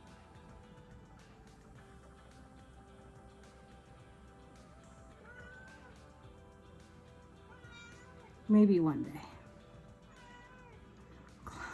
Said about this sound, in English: How can you help but hear my cat, right?